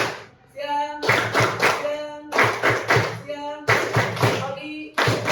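A group claps in a steady rhythmic pattern at a teacher coaching session, with bursts of patterned clapping separated by short pauses and voices chanting along.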